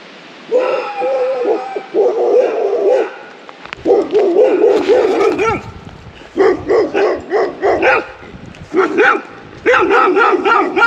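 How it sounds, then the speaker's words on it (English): Dogs bark repeatedly in bursts outdoors during huckleberry picking on a Pacific Northwest camping trip, the loud barks and yips coming in clusters with short pauses between them. "But the dogs started coming after me"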